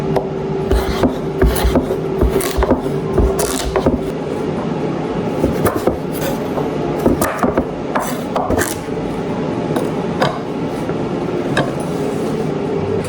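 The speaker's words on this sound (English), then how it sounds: "We've got our squash all chopped up" A knife cuts butternut squash into cubes on a board, giving a close, fast run of uneven taps and scraping thuds that keeps going without pause.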